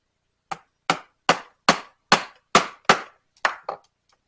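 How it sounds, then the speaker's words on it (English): Steel hole punch hammered through two thicknesses of leather for a magnetic bookmark: nine sharp, close strikes in a steady rhythm, each a crisp knock that dies away quickly, with no talking. "So I'll split the difference and punch it right at 1/8 of an inch."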